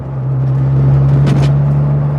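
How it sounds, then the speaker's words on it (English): A Rover 100 small hatchback on the road, its steady engine drone overlaid by a strong, constant gearbox whine, loud and close from inside the cabin with no talking. "It does have quite a bit of gearbox whine"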